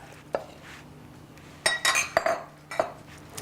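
A whisk mixing waffle batter in a bowl, close sharp metallic clinks and scrapes coming in irregular bursts against a quiet background hum.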